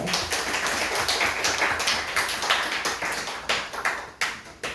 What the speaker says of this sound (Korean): 하나님 앞에 영광의 박수를 드리겠습니다.